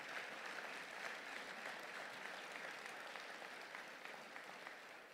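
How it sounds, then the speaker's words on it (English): An audience at a college football award ceremony applauds in a sustained wash of clapping hands, even and continuous, fairly faint and distant throughout with no talking over it. "Let's give them a round of applause."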